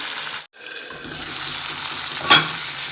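Avarekka (field bean) masala ingredients sizzle steadily in a hot pan as they are sautéed lightly, a close continuous frying hiss with a brief stir interrupting it partway.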